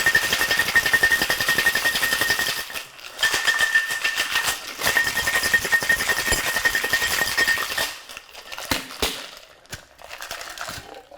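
A cocktail shaker tin filled with ice rattles in a loud, dense, rapid churn for several seconds. It pauses briefly, resumes, then breaks into a few scattered clinks and knocks as the shaking ends.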